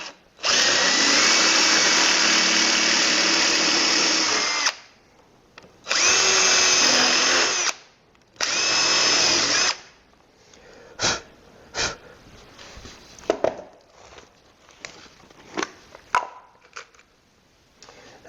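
A power drill whirs in three bursts while pre-drilling oak for a wardrobe, the first long and two shorter, followed by scattered clicks and light handling noises.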